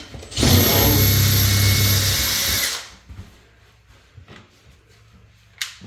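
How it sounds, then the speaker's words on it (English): A power drill bores a hole into a wall for a wall anchor during an IKEA Pax closet installation, one steady loud whine lasting about two and a half seconds and then cutting off, followed by faint handling noises. "drill a hole for the stud side"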